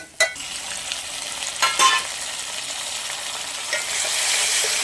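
Curry leaves and salt sauté in hot oil, giving a steady, close sizzle with a few sharper crackles and stirring scrapes in the first seconds, the frying hiss swelling slightly toward the end.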